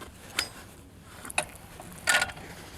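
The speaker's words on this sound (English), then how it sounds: "Now we are attaching the TNE to our soft mount." Metal parts of a T&E traversing and elevating mechanism clack and click as it is fitted onto the soft mount of an M2 Browning .50 cal machine gun, with three short separate knocks over a quiet background.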